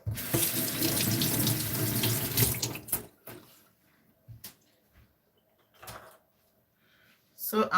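Ginger being washed under a running kitchen tap, a loud steady gush of water for about three seconds, then the tap shuts off, followed by a few quiet clunks and handling sounds, and water runs again briefly at the end.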